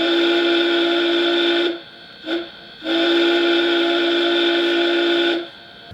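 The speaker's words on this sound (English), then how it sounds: "using I believe a Southern Pacific steamboat type whistle. And I do like that sound." A loud, deep Southern Pacific steamboat-type steam locomotive whistle, played through a model locomotive speaker, sounds in a long blast, breaks off into a brief short toot, then blows a second long blast.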